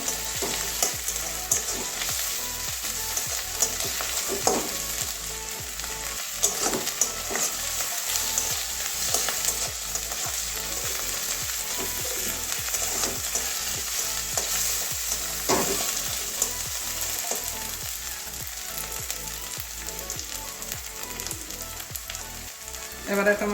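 Garlic frying in hot oil in a pan for a Bengali soybean and cauliflower curry, a steady close sizzle with frequent stirring scrapes and clinks throughout, no voices.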